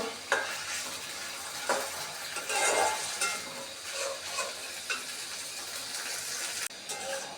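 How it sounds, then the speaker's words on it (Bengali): Onion, garlic and ginger paste sizzles in a hot pan for a chicken bhuna, with a constant frying hiss and irregular scraping stirs close by. "এখানে পেঁয়াজের বাটা রসুন বাটা আদা বাটাগুলো দিয়ে দিলাম কিছুক্ষণ পেঁয়াজের সাথে ভেজে নিব"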